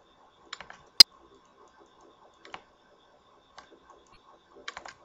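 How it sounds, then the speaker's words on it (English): A computer's mouse clicks while beats are marked in Sony Vegas, sparse sharp taps in small bursts spread across a quiet room, including one louder isolated click. "Sorry for my clicking if you guys can hear that."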